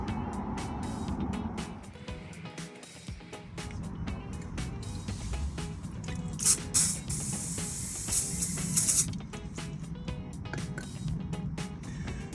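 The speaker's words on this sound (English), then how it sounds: "I'm just going to spray this with some WD-40 to try and give it a bit of lubrication" An aerosol can of WD-40 hisses in two short sprays onto a Bentley brake caliper, loud and close, over a steady background rumble with scattered clicks.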